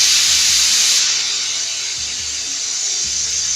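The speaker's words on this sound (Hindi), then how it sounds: "इसे मीडियम फ्लेम पर 2 से 3 सीटी आने तक पकाएंगे।" A pressure cooker holding yam for a sabzi whistles as it vents steam, a loud, close, continuous high hiss that eases slightly after the first second, with faint clicks of the weight beneath.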